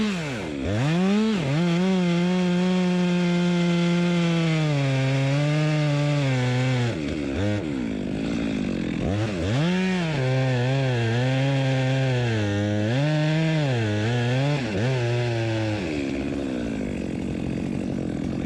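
A chainsaw cuts the front off a tree being felled during a digger clearing job, its engine whining loud and close with pitch swooping up and down as the bar bites and revs.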